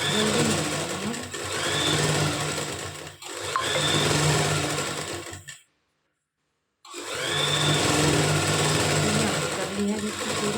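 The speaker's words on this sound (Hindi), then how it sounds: "आपको आराम से सिलाई लगानी है, जल्दी नहीं लगानी है।" A sewing machine stitches a kurti neck in steady whirring bursts, pausing briefly in between and falling silent for about a second before resuming, close and fairly loud.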